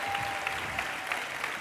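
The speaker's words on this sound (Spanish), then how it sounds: "necesito un aplauso primero, un aplauso primero" Studio audience applause on a televised talent show during a magic act, a brief steady burst of clapping heard alone at moderate loudness.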